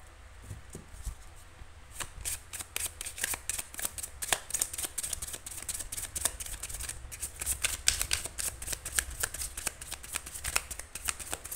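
A deck of tarot cards shuffled over and over at close range, a quiet run of crisp riffles, flicks and snaps with no one speaking.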